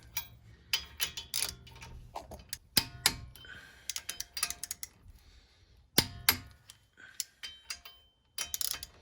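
A torque wrench clicks in sharp, irregular metallic snaps while a wheel spacer is tightened on a Honda Civic, close and clear with quiet gaps between bursts.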